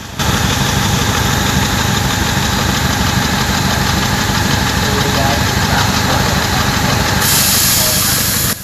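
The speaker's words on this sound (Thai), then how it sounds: "เรามาฟังเสียงของปลายท่อไอเสียกันครับ" Exhaust tailpipe of a Toyota Altis 1.6 idling with a misfire from clogged injectors, giving a steady, loud, close engine rumble with hiss throughout and occasional stumbles in its rhythm.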